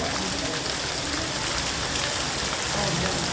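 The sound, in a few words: heavy rain falling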